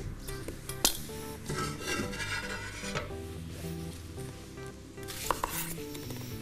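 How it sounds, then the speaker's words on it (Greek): A knife finely chops onion at the start of preparing pasta with sausage and spinach, giving scattered sharp taps on a board beneath steady background music. "Ψιλοκομμένο κρεμμύδι"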